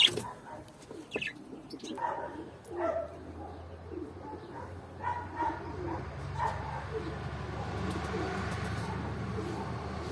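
Pigeons in a loft coo in soft, repeated low calls over a steady background hum, with some chirps and a few sharper sounds mixed in; no clear talking.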